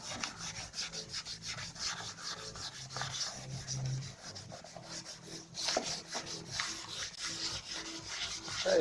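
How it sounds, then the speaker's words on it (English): Steady scratchy rubbing of wet sandpaper on a painted Porsche Boxster 986 centre console, back-and-forth strokes repeating continuously at close range with no talking. "we're going to carry on wet sanding"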